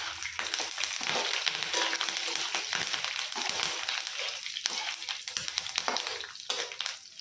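Curry leaves going into lentils already frying in hot oil, giving a close, crackling sizzle with sharp spitting pops and stirring scrapes throughout.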